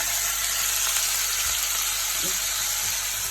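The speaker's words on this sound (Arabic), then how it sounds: "شويه بسله بالجزر اهو كده هنشوحهم" Peas and carrots sautéing with browned onions in a pan, a dense continuous sizzle with occasional faint stirring knocks.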